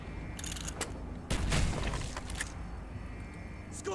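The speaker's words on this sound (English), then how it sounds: "Gunfire's drawing attention." Gunfire in the Call of Duty Black Ops video game: a few sharp shots, then a loud burst of rapid fire and booms in the middle, trailing into scattered pops over the game's background noise.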